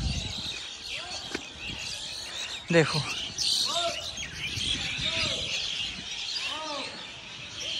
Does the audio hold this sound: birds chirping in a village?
yes